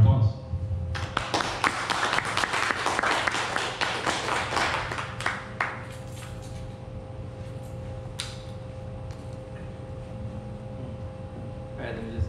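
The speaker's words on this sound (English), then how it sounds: "thank you to Mike. Round of applause" A small room of people gives a brief round of applause at a live-streamed meetup, scattered clapping for a few seconds that thins out into quiet room noise with a low steady hum.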